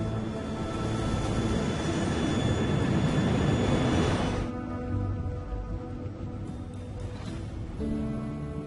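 A Boeing 737 airliner in flight gives a broad, steady engine roar that drops abruptly to a quieter, hollow cabin drone with faint tonal hums, no voices present.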